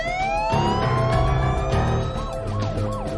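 Ambulance and police car sirens wail together, one sweeping steadily while another warbles in rapid up-and-down cycles, loud and continuous over low traffic rumble with no talk.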